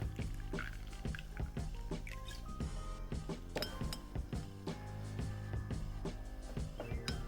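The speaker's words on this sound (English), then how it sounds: "I'm going to put in some sweet red table wine." Sweet red table wine is poured into a pot of beef broth, with clinks of glass and a soft liquid trickle close by over steady background noise.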